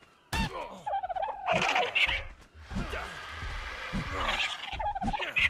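Dodo birds in the video game ARK Survival Evolved give a run of throaty, gobbling turkey-like calls, loud and near, repeating in irregular bursts for several seconds with no talk over them.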